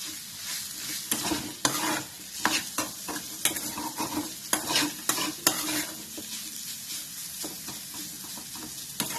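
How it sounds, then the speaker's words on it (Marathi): An aloo poha mixture roasting in a pan over high gas, with sesame seeds, stirred in quick scraping strokes over a steady sizzling fry, close and without any talking. "गॅस थोडासा मोठा करायचा म्हणजे चांगलं भाजून द्यायचं."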